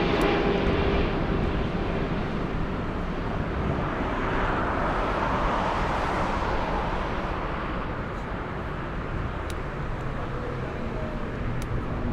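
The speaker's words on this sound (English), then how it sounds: "This is China Cargo Airlines Flight 215 arriving from Shanghai. A 777 freighter." A China Cargo Airlines Boeing 777 freighter on Flight 215 from Shanghai arrives at Frankfurt, a continuous wide jet rumble with a gentle swell midway, steady and fairly distant, no talking over it.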